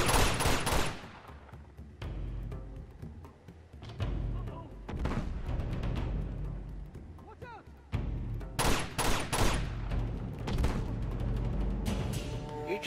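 Bursts of gunfire in the action game Uncharted 2: Among Thieves, loud repeated volleys with heavy booming low end, some shots sharp and isolated, others clustered, over continuous rumbling battle noise.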